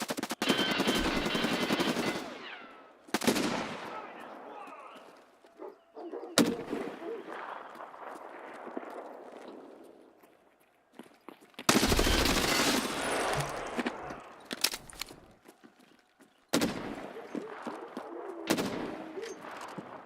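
Gunfire in the video game Escape from Tarkov Arena, with heavy bursts of shots and explosive cracks across a match, some loud and close, others quieter and distant, while players talk over the action.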